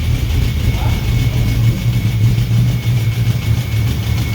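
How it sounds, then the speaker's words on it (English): A car engine running on a dyno with a noisy tappet, a steady close idling rumble with a faint ticking texture, unbroken for the whole stretch. "So there's a tappet that's noisy"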